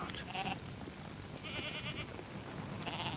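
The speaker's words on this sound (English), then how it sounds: "Our small ewe flock was fed on the sugar beet tops left on the field to wilt." A small flock of ewes grazing on sugar beet tops in an open field bleats three times in short calls, fairly faint and distant over steady outdoor rumble.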